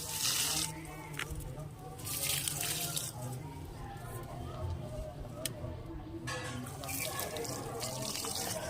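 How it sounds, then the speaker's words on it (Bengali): Rice-washing water splashes and pours onto rose plants in a sunny garden in several broadband gushes, while a person talks over it throughout. "এই যে চাল ধোয়া জলটা এখন আমি দিয়ে দেবো এই গোলাপ গাছগুলোয়"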